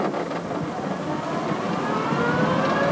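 An E Roadster car pulling away in third gear, a steady engine or motor hum that rises gradually in pitch as it accelerates, close and continuous.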